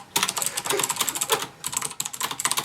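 Rapid typing on a Logitech G710 mechanical keyboard with Cherry MX Blue switches, producing dense, crisp clicky keystrokes up close in two bursts separated by a short pause.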